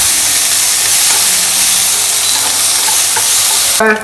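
Onions stir-fried in a pan for homemade pan pizza, giving a loud, steady sizzle with constant hiss and a few clinks of stirring. The sizzle is cut off abruptly near the end.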